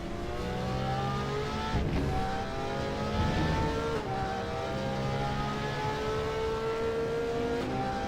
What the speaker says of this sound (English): Quickly drive on board with Arella in the Porsche